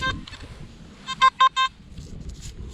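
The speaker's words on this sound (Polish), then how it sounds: "Kolejny wybitnie żelazny sygnał, ale jak już wiecie, tak dają współczesne drobniaki" A metal detector sounds three short, clear beeps in quick succession over an iron target while searching a reservoir bed, with quieter background noise before and after.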